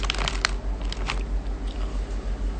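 Close, crunchy chewing of Skittles candy, with sharp bites and crackles over a low steady hum and no talking.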